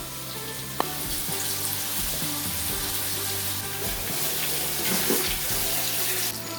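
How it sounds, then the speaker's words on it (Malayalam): Chicken pieces fry in a pan of oil for restaurant-style fried rice, giving a steady, close, loud sizzle with one sharp click near the start. "ഇനിയിപ്പോൾ നമുക്ക് അടുത്ത ഭാഗം കൂടി കോഴി പൊരിക്കാനിടാം"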